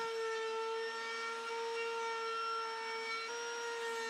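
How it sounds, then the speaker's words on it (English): A router table fitted with a chamfer bit bevels the edge of a solid guitar body, a steady high-pitched whining hum held evenly with slight shifts in tone as the wood is fed. "I'm going to go over to my router table with a chamfer bit, and I'm going to put a bevel all the way around the front and back of the guitar"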